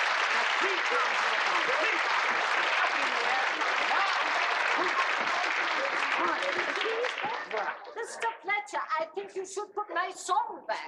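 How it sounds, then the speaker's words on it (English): Crowd greeting a parade of pipe-playing Beefeaters with loud sustained applause and cheering, the clapping thinning into scattered individual claps near the end. "Give them a cheer."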